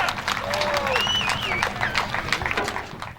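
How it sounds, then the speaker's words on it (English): Crowd applause and cheering at Star Speedway after a 350 Super Feature race as driver Sparky MacGyver of car 22 climbs out, a dense steady roar of clapping over an announcer's voice. "How about a big round of applause?"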